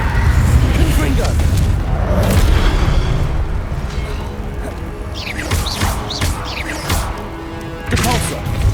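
Confringo blasting spell cast in Hogwarts Legacy, with heavy booming impacts and crashing hits across the passage and crackling magical debris scattering afterward, all loud and close.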